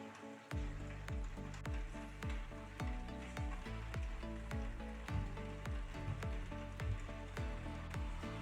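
Lote fish curry cooks covered in a pan over low gas, giving a steady sizzle with repeated popping and spitting bursts, close and fairly soft with no talk.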